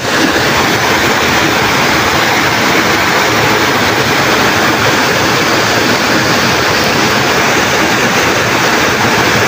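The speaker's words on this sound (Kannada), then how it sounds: "ನೋಡ್ರಲ್ಲಿ ಹೆಂಗೆ ಚಿಮ್ಮಾದ ನೀರು" Water gushes from a dam in a loud, unbroken roar, a dense steady rush of falling water heard up close with no breaks.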